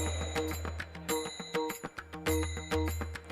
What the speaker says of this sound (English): join hands for ringing the bell of world peace